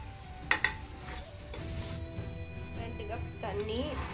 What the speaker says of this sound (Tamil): அரிசி எல்லாத்தையும் சேர்த்தாச்சு. இப்போ ஒரு வாட்டி நம்ம கலந்து விட்டுறலாம்.